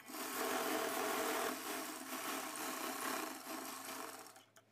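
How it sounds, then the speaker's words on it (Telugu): A sewing machine runs steadily for a few seconds, stitching the marked side seam of a blouse, its close, continuous motor whirr slowing and stopping at the end with no voices. "ఆ లైన్ మీద స్టిచ్ చేసుకుని లాస్ట్ని లాక్ చేసేసుకోవడమే"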